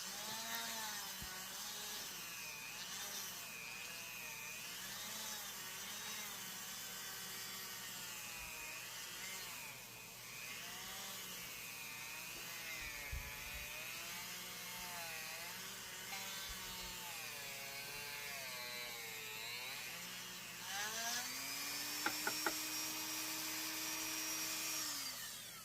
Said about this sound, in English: I've gotten used to drilling with the Dremel